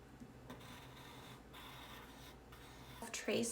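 A pencil traces over a drawing laid on paper for a DIY wall stencil, producing soft, quiet scratchy strokes in short bursts, with a louder rustle of handling at the end.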